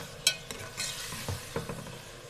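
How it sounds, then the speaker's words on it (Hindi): Tomatoes, chicken and mash dal cooking in a pot, faintly sizzling while a spoon stirs and taps the pan in a few brief, close knocks, with no voices. "हमने इसे इतनी देर पकाना है कि टमाटर अच्छे से गल जाए।"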